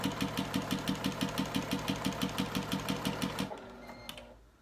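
A sewing machine chain piecing quilt blocks runs at a fast, even stitching rhythm, loud and close, then stops abruptly, leaving a brief faint mechanical whir as it winds down.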